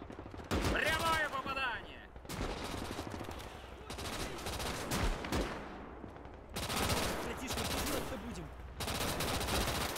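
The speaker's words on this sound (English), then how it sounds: "These guys here are firing at infantry." Loud bursts of automatic gunfire and rifle shots in the World War II strategy game Call to Arms - Gates of Hell: Ostfront, with troops firing at infantry; dense sustained volleys broken by short gaps, filling the whole stretch.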